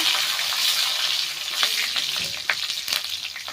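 Black cumin seeds and chopped green chili frying in hot oil with bay leaf, a loud close sizzle broken by scraping stirs and clattering spoon strokes, no talking.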